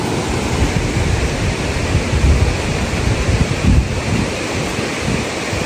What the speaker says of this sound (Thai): น้ำตกกองแก้วที่เราลงไปมาเมื่อกี้